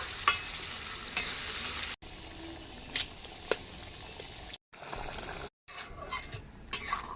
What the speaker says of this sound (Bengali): ওই মাছগুলো এবার এই কষানো মশলার মধ্যে দিয়ে দেব। এবার নাড়িয়ে চাড়িয়ে মিশিয়ে নেব।